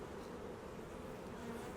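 A large swarm of honeybees, thousands around a hive, buzzes in a steady dense drone that stays constant and fairly faint throughout, with no voices over it.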